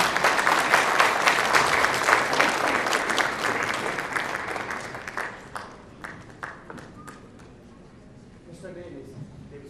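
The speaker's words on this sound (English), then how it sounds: "Please give him a good round of applause." Gala audience at a business conference applauds an award recipient, with dense loud clapping that thins to scattered claps and fades out, while a voice speaks over it.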